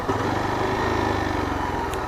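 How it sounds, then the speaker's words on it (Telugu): A Yezdi Adventure motorcycle slowing under engine braking at road speed, with a steady, loud, close engine drone and a low, pulsing exhaust note running without a break. "ఇది ఇంజన్ బ్రేకింగ్ అనమాట"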